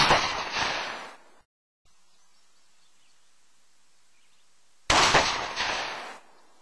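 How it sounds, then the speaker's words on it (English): Two sharp, loud blasts from a Remington 1187 12-gauge shotgun firing 2 3/4-inch magnum sabot slugs, each a sudden crack with a decaying tail, separated by a few seconds of near silence outdoors. "Shooting an 1187 12 gauge topped with a 2-power aim point using the 2 3/4 inch magnum ammunition is Mike Kingston of Aim Point."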